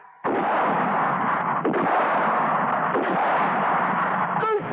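Gunfire in a 1988 Hindi action film scene: a continuous, dense roar of shots and blasts that sounds like a battle. It starts abruptly and stays loud for about four seconds, with a few sharper cracks along the way.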